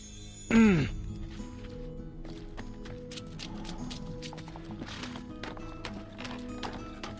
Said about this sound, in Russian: да куда ты? Лошадь.